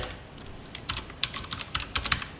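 Keys clatter in quick irregular bursts as someone types C code on a computer keyboard, close and fairly quiet, with a pause before the keystrokes pick up.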